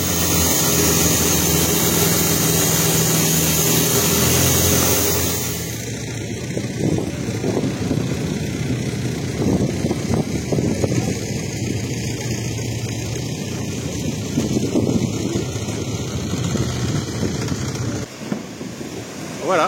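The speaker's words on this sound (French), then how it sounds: "Et là il n'est pas allumé mais le moteur est très bruyant." A loud long-tail boat engine roars steadily on the crossing from Ao Nang to Railay in Krabi, then shifts to a rougher, throbbing drone mixed with wind and water noise, with no speech.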